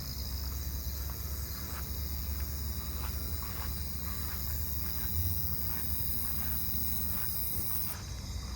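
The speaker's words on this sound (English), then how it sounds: "there's one that sounds kind of close right here" Round-tipped conehead katydids call at night in a neighbourhood, with one close by: a continuous high, shrill buzzing drone running steadily throughout, with other insects faintly in the background.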